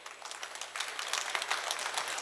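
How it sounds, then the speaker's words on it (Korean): A seated audience at a healing talk concert breaks into dense, steady applause for two sign language interpreters, many hands clapping at once in a continuous wash that holds evenly throughout with no voices on top. "수화통역사 박미애님과 박은영님 두 분이 수고를 해주실 텐데 이분들에게도 우리 좀 큰 박수 부탁드릴게요"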